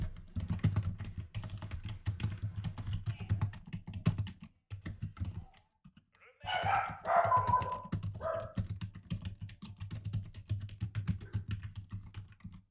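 Rapid clicking on a computer keyboard, steady bursts of typing with a short pause midway, while a dog barks a few times in the background.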